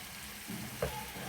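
Soft sizzling of spices frying in a pot for potato stew, with a couple of light scrapes from stirring.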